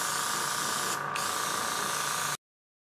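An airbrush sprays paint onto a model F-86 jet, a steady close hiss running continuously for a couple of seconds with a brief dip midway before cutting off abruptly.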